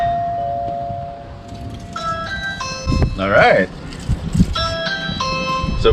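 A wired Ring Video Doorbell 2 chime rings in a home, sounding a run of clear bell-like tones with a brief burst of other noise midway, while a person speaks briefly.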